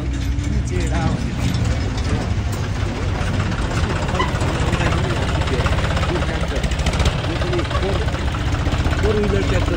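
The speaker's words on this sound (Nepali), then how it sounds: "फोर व्हिलर ट्र्याक्टर रहेछ, एकदम राम्रो।" A four-wheel tractor engine runs steadily close by, a dense rattling, clattering mechanical chug that holds the same level throughout with no pauses.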